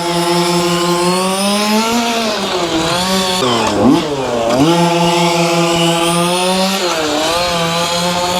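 A radio-controlled car's engine revving hard, a loud, buzzy, high-pitched whine that rises and dips in pitch as the throttle changes, steady and close throughout.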